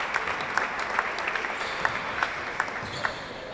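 Applause at a veterans' football match between Ellas and Korinthos, with a steady wash of clapping from the stands and a few sharper claps standing out, moderately loud throughout.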